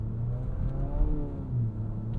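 A 2027 Infiniti QX65 turbocharged coupe SUV revs with light throttle, its engine note rising and falling in a moderate, slightly distant whir and rumble, heard alone without talk.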